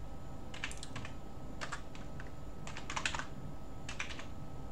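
Fast typing on a QWERTY computer keyboard comes in four short bursts of clicking keys over a steady background hiss, with no voices.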